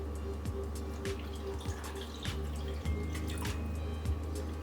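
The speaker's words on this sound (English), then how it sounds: "I'm also going to put in 1 cup of water." A cup of water poured over sugar in a pot for lavender syrup, a steady close splashing stream with small drips and clinks, heard alone.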